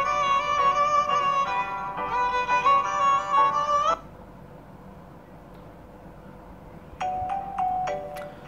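A bright, tonal violin version of the Paquito ringtone melody plays for a few seconds, pauses, then starts up again briefly; no voices.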